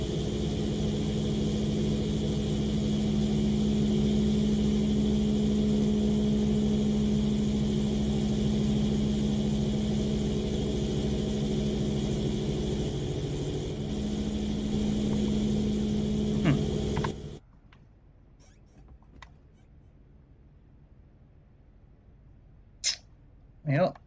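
A steady low drone from the LZ129 Hindenburg airship's engines in MSFS 2020, running with one engine off, holds loud for about seventeen seconds, then cuts abruptly to near silence broken by a few faint clicks.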